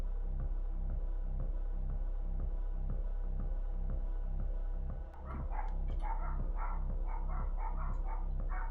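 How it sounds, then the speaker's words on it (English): Puppies yip and bark in a quick irregular cluster in the second half, moderately close, over a steady loud low hum and background drone. "Sorry for the puppies."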